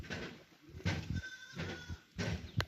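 Goats on a farm, some in poor condition, bleating in repeated quavering calls, several overlapping bursts at close to moderate distance with pauses between.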